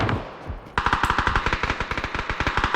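Rapid automatic gunfire in the battle royale game PUBG, loud and close, a fast rhythmic burst of shots following a quieter lead-in, with no voices over it.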